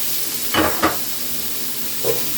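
Stew meat, onion and vegetables browning in a pan, a steady close hiss of sizzling with a few brief scraping stirs.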